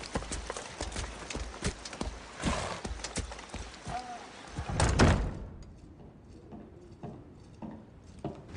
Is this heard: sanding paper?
no